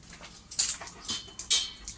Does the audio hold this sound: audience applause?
no